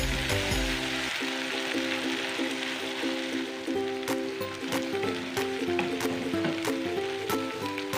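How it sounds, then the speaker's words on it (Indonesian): Spice paste sautéing in a pan for a tofu dish, a steady sizzle that continues throughout with no talk. "Kita tumis sampai harum ya."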